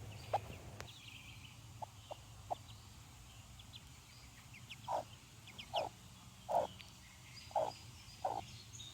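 A broody hen near her chicks gives a few soft, separate clucks, then a run of five louder, evenly spaced clucks close by, over a steady low background hum.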